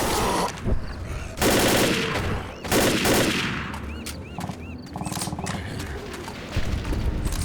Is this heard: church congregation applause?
no